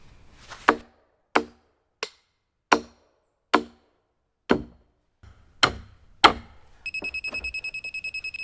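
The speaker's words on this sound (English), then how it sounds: "I'll be fastening them with 8D duplex nails." Concrete stakes, 24 inches long, are fastened with 8D duplex nails for a DIY shed foundation form: eight sharp, evenly spaced hammer blows ring out close by, followed by a steady electronic beeping at the end.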